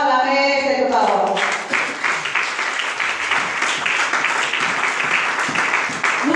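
A church congregation applauds during a French-language sermon on signs, a dense, steady crowd clapping that swells after a brief sung or spoken opening and carries on loudly throughout.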